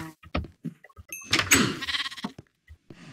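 Sheep in the Minecraft video game bleat in short, separate calls, with a louder, fuller bleat in the middle of the sequence and quieter calls around it. No voice is heard.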